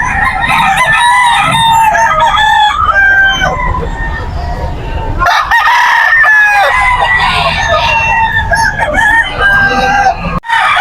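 Roosters and chickens at a crowded early-morning poultry market in Bocaue, Bulacan, many loud overlapping crows ringing out one after another over clucking and a busy crowd murmur, with people talking nearby.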